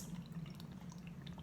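Distilled water poured through a funnel into a bottle for a homemade facial toner, a steady low gurgling trickle running close and continuous, with faint splashy detail on top.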